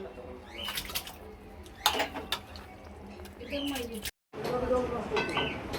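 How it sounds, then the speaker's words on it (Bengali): Dishes and utensils get washed under water in a home kitchen, with clinking metal and splashing, running water close by, while people talk and birds chirp in the background. "এখন এগুলো সব ধোয়াধুয়ি হচ্ছে"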